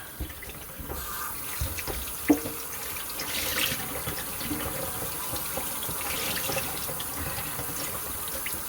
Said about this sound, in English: Rinsing it in cold.